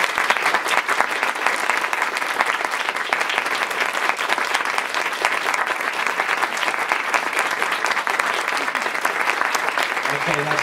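An audience at a talk on Buddhism and music festivals claps continuously with eyes closed, a steady, dense wash of hand claps sustained for about ten seconds without talk.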